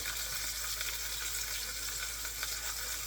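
Thick salmon fillets pan-searing over medium-low heat give a steady, close sizzle with faint popping throughout, with no talk.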